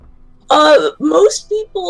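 A performer's voice imitates a throat clearing in a tabletop role-play scene: a loud, close, rasping harrumph followed by a couple of shorter voiced throaty sounds.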